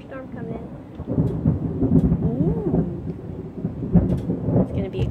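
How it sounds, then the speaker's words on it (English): Low rolling thunder rumbles through steady rain, loud and fairly close, swelling and fading over several seconds. "Yeah, there's a storm coming in."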